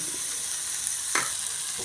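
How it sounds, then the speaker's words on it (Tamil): Chopped onions, curry leaves, coriander, tomato and spices sizzle and hiss in a hot pan, with a brief scrape of a spoon stirring partway through, close and steady. "இது எல்லாத்தையும் இதில் சேர்த்து நல்லா கிளறிடுறேன்."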